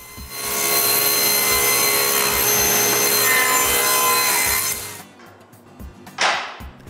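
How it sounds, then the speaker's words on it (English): Loud saw ripping recycled wood strips to width, a dense, continuous cutting roar for about five seconds before the blade runs free and winds down, with a short whoosh near the end. "Then I can rip them again to the right width."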